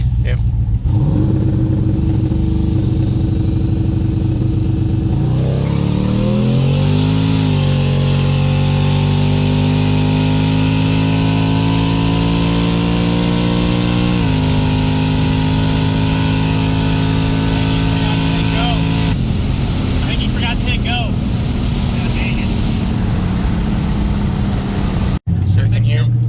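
A car engine revs hard and continuously through a burnout attempt, loud and close, its pitch climbing and holding at high revs before dropping off near the end.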